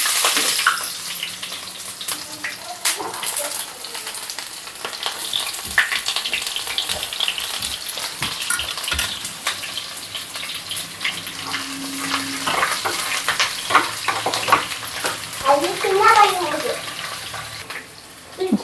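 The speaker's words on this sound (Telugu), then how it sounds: "ఆయిల్ బాగా వేడెక్కిన తర్వాత మనం ముందుగా కట్ చేసి పెట్టుకున్న ఆనియన్స్ వేసుకోవాలి" Chopped onions sizzle steadily in hot oil for a raw mango dal, a broad continuous frying hiss running throughout with occasional stirring clatter and a brief voice near the end.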